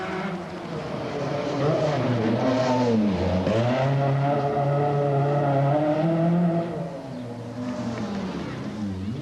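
Audi Sport Quattro rally car with 460 brake horsepower, its engine note rising and falling as it accelerates, heard beneath narration in an older, muffled recording.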